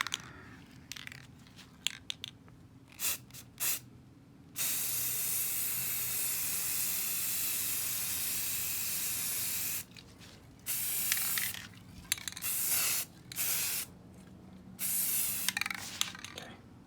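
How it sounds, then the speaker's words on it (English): An aerosol spray can hisses in short bursts while spraying primer and paint onto car paddle shifter extensions, then one long continuous spray lasting several seconds, followed by more short sprays with faint clicks between. "so let's spray the back."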